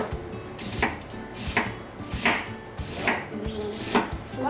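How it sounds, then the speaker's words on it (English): Knife chopping onion into wedges on a board while making Japanese oyako-don, with about six firm, evenly spaced chops over background music and no talking. "We slice onion into wedges."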